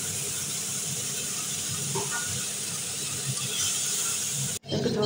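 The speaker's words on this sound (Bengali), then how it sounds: "এবার ওই মশলাটা ভেজে নেব।" Spice paste fries in hot oil with a steady, dense hiss that runs throughout, close and fairly loud, cut off abruptly near the end.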